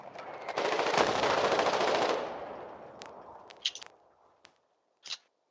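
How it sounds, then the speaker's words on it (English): Gunfire exchanged at the front line in the war game Foxhole: a dense two-second burst of machine-gun fire, then scattered single shots near and far, with a few sharp cracks trailing off. "There are shots being exchanged in the darkness from both sides."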